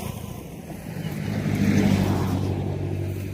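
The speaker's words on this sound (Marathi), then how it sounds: "रस्त्याच्या कडेला गाड्या वाहते" A vehicle passes along a roadside near hills, its engine swelling as it approaches and fading again over a few seconds.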